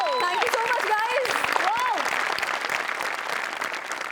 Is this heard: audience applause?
yes